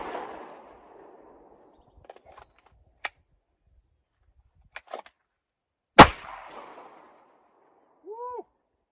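Handgun shots fired with Fiocchi ammunition at shooting practice: two sharp close reports, a light one near three seconds and a louder, heavier one at six seconds, with faint clicks and handling noise between them and a short voice sound at the end.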